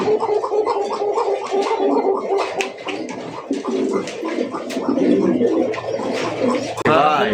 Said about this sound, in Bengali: দুইটা কবুতরই সেম ডাকে